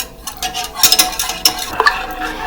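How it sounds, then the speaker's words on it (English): A batter being mixed until creamy, with quick close scraping and clinking strokes of a utensil against a bowl, in short uneven bursts. "he's going to continue to mix it until it gets creamy"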